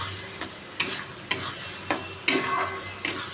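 A mashed vegetable mixture with two cloves of garlic fries in a pan while a spatula scrapes and stirs it in sharp strokes roughly every half second, over a soft continuous sizzle, close and alone.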